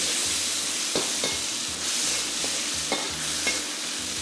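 Salted fish fries in hot oil, a dense continuous sizzle heard up close, with a few soft pops and stirring scrapes scattered through it.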